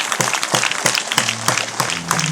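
A church congregation gives a burst of applause, many hands clapping in a dense, close, lively patter that keeps up throughout.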